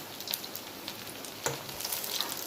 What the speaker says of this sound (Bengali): দেখুন আর একটু লাল করে ভালো করে ভেজে নেবো